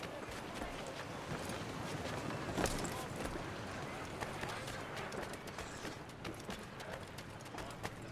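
Horse hooves clip-clop at a steady trot in the video game Assassin's Creed 3, faint and continuous under low ambient noise and some voices.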